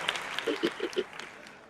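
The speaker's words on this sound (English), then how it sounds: "Round of applause." Brief applause and clapping at a casual coffee-and-chat livestream, a few soft claps mixed with faint background voices, fairly quiet and short.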